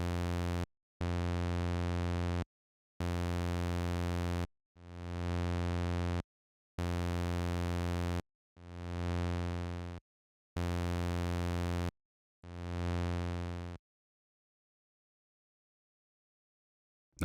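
A buzzy synthesizer waveform sounds in a series of sustained tones, some swelling in or trailing off in reverse through the Rob Papen RP-Reverse effect, separated by short silences and ending in a long quiet stretch.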